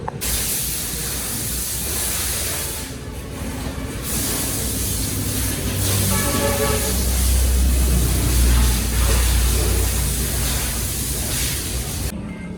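A loud, continuous hiss of pressurized water spray washing a mud-caked motorbike runs throughout, steady and close, with a low rumble building beneath it midway.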